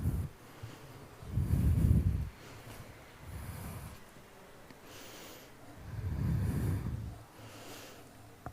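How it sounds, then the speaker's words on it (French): Deep, slow breaths during a lying-down yoga pose, three long airy inhale-exhale swells separated by pauses, close and soft with no talking. "Prenez encore 3 respirations profondes ici"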